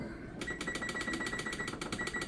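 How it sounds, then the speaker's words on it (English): A kitchen timer is set while cheese is being made, giving a rapid series of regular, evenly spaced ticks or beeps against steady background noise, close to the microphone with no talking. "I'll go ahead and set my timer"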